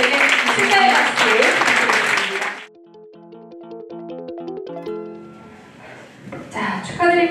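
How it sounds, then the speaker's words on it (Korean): Loud, dense applause from an awards ceremony audience at the 2022 NH Bank Korean Women's Baduk League, honouring the MVP, fills the first two and a half seconds, then stops sharply as ceremonial music takes over. "축하의 박수"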